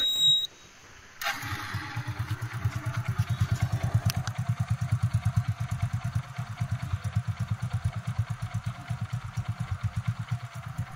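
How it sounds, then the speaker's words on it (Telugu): A Hero Glamour motorcycle, freshly restored, starts with a short crank and then settles into a loud, close idle. Its engine beat is even and rhythmic, with a few faint beeps early on. "ఈ బండిలో మీకు ఇంజిన్ బీటింగ్ వినిపిస్తాను"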